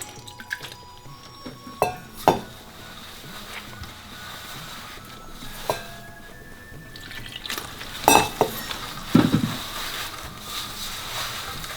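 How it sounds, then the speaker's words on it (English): Flour and water being worked by hand into dough for dahi vada, with soft stirring and squelching sounds and occasional knocks against the bowl, close and moderately quiet. "Now you're going to start pouring water little at a time till you form it into like a dough."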